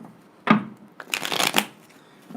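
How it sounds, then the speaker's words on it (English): Tarot cards are riffled and shuffled in two crisp, close bursts, the second longer and rustling, separated by brief quiet. "a couple more shuffles, and I'll start the reading"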